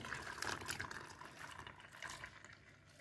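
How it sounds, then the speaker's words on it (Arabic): Homemade liquid laundry detergent, made from powdered washing powder and water, is poured from a cooking pot into a container, giving a steady, continuous splashing and gurgling flow close by with no talking. "هنجيب بقى اللي احنا عاملينه في الحله اهو بسم الله ونلقه هنا"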